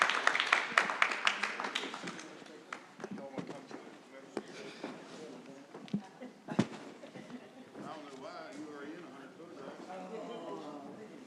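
An audience applauds a panel, with a burst of clapping at the start fading into scattered claps and murmuring while a voice speaks over it.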